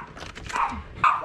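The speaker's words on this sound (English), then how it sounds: "Oh, they're barking." Eight-week-old Cavapoo puppies let out a couple of short, high yips and barks close by, with quiet gaps between them.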